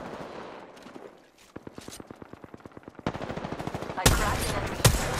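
Gunfire in the battle royale game Apex Legends: rapid bursts of automatic weapon fire building in intensity, with sharp louder shots near the end, close and punchy, over faint game ambience.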